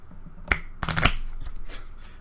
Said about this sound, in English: I barely shuffled it, by the way.